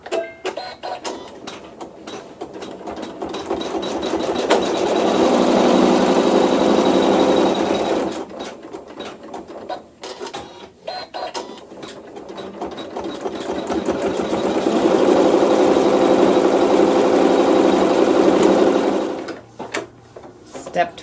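A sewing machine stitches a row of bubble quilting with a rapid mechanical chatter, running in two long sustained bursts between quieter stretches of handling noise and short stop-start runs.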